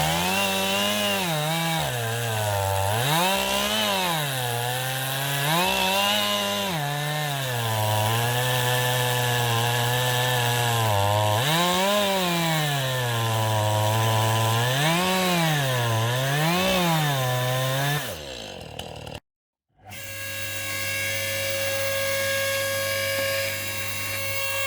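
A chainsaw cuts through a few pieces of garden wood, its engine rising and falling in pitch as it bites and frees over and over, loud and close, before a brief cutoff and a steady idle.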